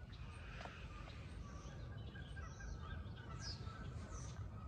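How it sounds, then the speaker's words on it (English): Outdoor morning ambience at a cold fishing campsite with several geese calls and honks scattered over a steady low rumble, fairly faint and distant, with a hint of voices. "These geese are loud as can be this morning."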